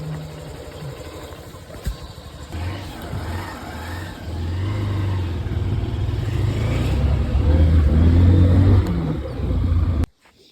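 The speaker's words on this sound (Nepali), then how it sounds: "बाइकमा हामी जाँदैछौँ गुहारामा सामान ल्याउनुको लागि थालमा" A motorbike rides along a road before dawn, its engine humming steadily and growing louder and rougher toward the end before cutting off abruptly.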